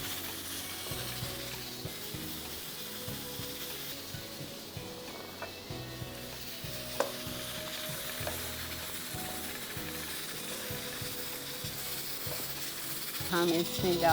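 Frying keema sizzles steadily in a pan while a spoon stirs it with soft, repeated scrapes, close and even throughout, with a slightly louder burst near the end.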